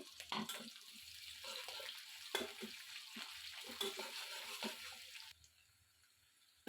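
Boiled noodles with potato, carrot and tomato frying in a pan, a faint sizzle with scraping stirs and a few sharp clinks, fading near the end, no voices.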